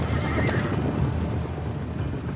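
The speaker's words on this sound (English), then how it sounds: "the horse" A horse neighs amid a dense, continuous wash of noise, with hoof clatter and general commotion filling the short clip at steady loudness.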